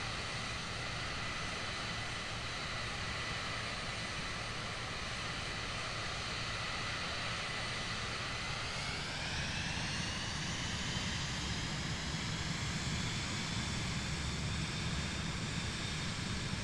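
Steady, loud drone of a light training airplane's engine in flight, continuous throughout, with the pitch rising noticeably partway through as the throttle opens to full power.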